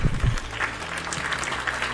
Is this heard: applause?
yes